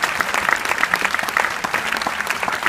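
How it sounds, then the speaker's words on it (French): Cinema audience applauding at a film presentation in Réunion, dense steady clapping from a sizable crowd throughout, fairly close and even in level. "Merci de l'applaudir."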